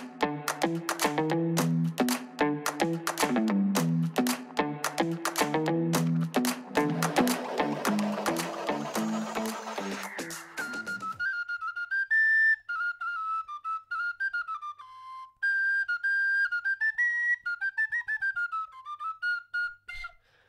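Romanian fluier, a folk flute made of cherry wood, plays a bright, lively melody, first over a busy accompaniment of fast ornamented notes, then alone as clear, sliding whistle-like phrases with brief pauses.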